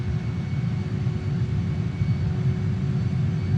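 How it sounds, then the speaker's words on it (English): Steady, loud JAS-39 Gripen (G39 Griffin) jet engine roar as power is added in a simulated flight over Andorra, a continuous low rumble with a faint steady whine above, no voices. "I'm going to add power as a caution"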